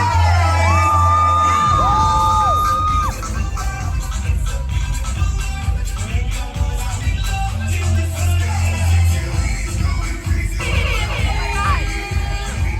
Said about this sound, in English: Put your hands together now to the loudest of your applause!